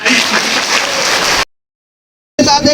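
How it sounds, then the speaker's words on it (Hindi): An audience of children applauding, a dense, loud burst of clapping that stops abruptly, then resumes briefly after a short gap. "अपने लिए तालियां बजा सकते हो"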